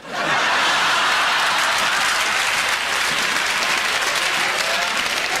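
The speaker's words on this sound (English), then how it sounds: "Thank you for that forced applause" A studio audience breaks into dense, sustained applause that starts abruptly and stays loud and even throughout, with a few faint chuckles mixed in.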